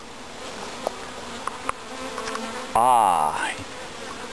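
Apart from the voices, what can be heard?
honey bee swarm buzzing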